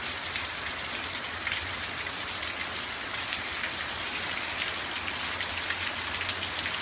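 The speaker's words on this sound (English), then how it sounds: "Seems to be raining quite a bit." Steady rain falls continuously, a dense even hiss of drops on surfaces, moderately faint and uninterrupted, with no voices.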